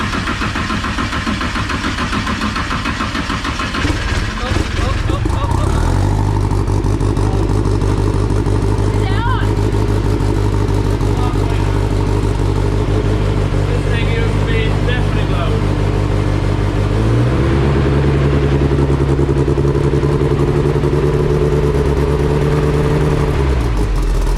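A 600BHP Mazda RX7 with a new exhaust idles and blips its revs close by for a long, steady stretch, the pitch stepping up and down a couple of times.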